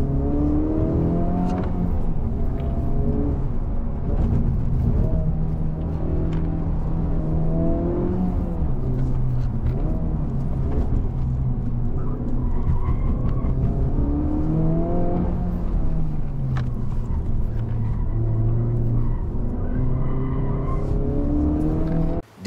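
Stock Honda FL5 Civic Type R engine accelerating on a mountain road run, loud and close with rising revs that climb, drop at gear shifts and climb again over a sustained stretch.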